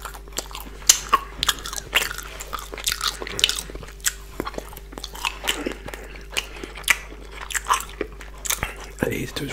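Someone eats fish balls, lap cheong and rice up close, with crunchy bites and wet chewing in an uneven rhythm of sharp clicks and smacks, and speech is heard in between.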